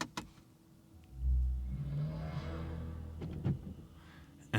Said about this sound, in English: I will be just starting up this EV.